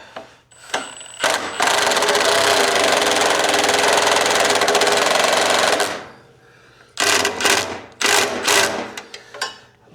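A 1/2 inch power tool drives bolts tight on a motorcycle hitch with one long, loud, rattling burst of about four seconds, followed by several short sharp bursts close by.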